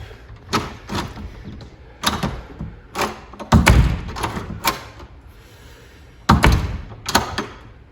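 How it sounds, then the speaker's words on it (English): A door with a freshly repaired lock mechanism is shut and latched several times, each close giving a solid thud or clunk with short rattling in between, loud and close. "It seems to be closing really well and holding really well. It's locking."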